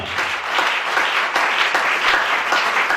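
A church congregation claps in steady, sustained applause that fills the room, with a dense, even texture and no pauses.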